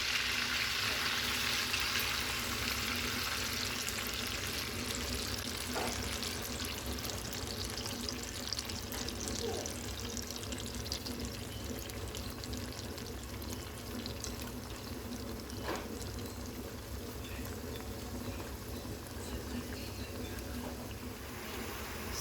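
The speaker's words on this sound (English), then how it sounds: "Now I'm going to pour the juice." Juice poured over chicken in a pan for tomato citrus chicken lollipops, giving a steady, continuous pouring and light sizzling wash that holds for the whole stretch at moderate, even loudness with no talk.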